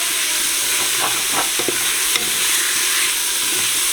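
Tomatoes sauté in a pressure cooker for turkey biryani, giving a steady hiss of frying with a few soft spoon-stirring scrapes and knocks, close and constant.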